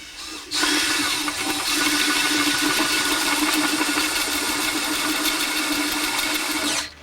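A power drill bores into a GM 6L80/6L90 transmission center support, starting abruptly with a loud, sustained grinding whine that holds for about six seconds before cutting off.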